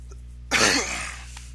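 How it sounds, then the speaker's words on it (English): A single sharp cough breaks out of a quiet room and trails off into a brief throat clearing, close to the microphone over a low steady hum. "got a bit of a cough"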